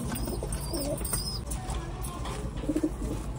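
A gerva pigeon in a hobbyist's flock gives a few low, soft coos near the end over a steady background hum.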